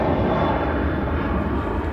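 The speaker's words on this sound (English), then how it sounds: "Ryanair on the roll out to Barcelona." A Ryanair airliner rolls out for departure to Barcelona at Manchester Airport, its engines a steady, loud, broad roar with no breaks over the two seconds.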